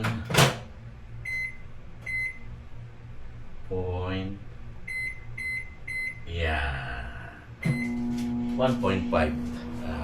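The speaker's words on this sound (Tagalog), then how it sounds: "Iinit naman natin dito sa microwave para medyo mga" A microwave oven heating food: several sharp beeps from the keypad, a door clunk, then the steady hum of the oven running, with a person talking in between.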